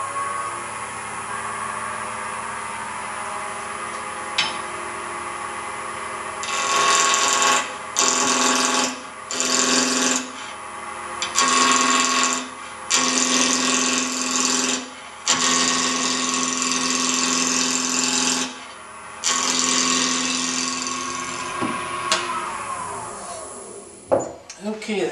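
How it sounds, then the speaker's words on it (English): Wood lathe spinning a tool handle blank while a roughing gouge cuts it down, a steady high motor whine with repeated bursts of loud rough cutting as the gouge is pressed in and lifted off. "Turn the lathe on and get a little speed up going here."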